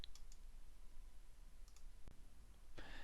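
A few faint, sharp computer mouse clicks in a quiet room, spaced irregularly with near-silence between them.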